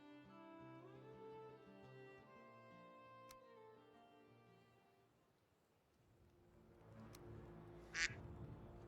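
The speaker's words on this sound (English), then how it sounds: "Yeah, the quack does play." A cartoonish duck quack rings out in the video game Valheim, one short, bright burst late in the clip after a long stretch of soft, melodic game music.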